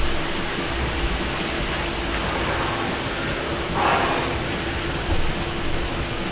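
Steady broadband rush of cold water pouring from a showerhead, constant and close, with a brief splashy change partway through.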